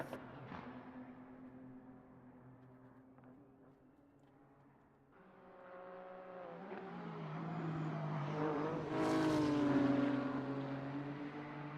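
GTR and BMW race cars dueling in an NLS endurance race at the Nürburgring, engines droning from a distance and then swelling louder as the cars pass close with a rising howl and a gear-change shift.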